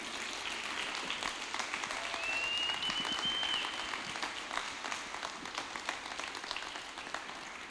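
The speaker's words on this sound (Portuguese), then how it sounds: "E uma salva de palmas para Jesus." Congregation applauding during a church service, a steady wash of many hands clapping for several seconds at moderate level, with a brief whistle-like tone partway through.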